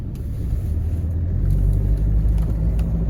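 A 1994 Land Rover Discovery 300Tdi automatic drives along with a steady, deep engine and road rumble heard from inside the cabin, loud and continuous, with no voices.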